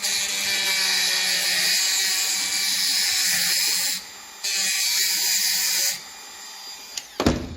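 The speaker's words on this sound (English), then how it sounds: "I only want to cut halfway through just to bend it." A pipe held tight in a clamp is cut partway through with a power tool, a steady loud whining saw tone running for several seconds, broken by a brief pause, then stopping with a few clanks near the end.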